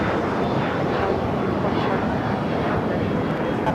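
Hawaiian Boeing Dreamliner airliner taxiing at LAX, heard as a continuous broad jet engine roar at steady moderate distance with wind noise on the microphone and no talking.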